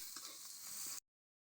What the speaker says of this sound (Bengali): এই যে পেঁয়াজ কুচি, মরিচ, জিরা, তো এই সব কিছু দিয়ে একসাথে তেলের মধ্যে ছেড়ে পরে নাড়াচাড়া করতেই হবে।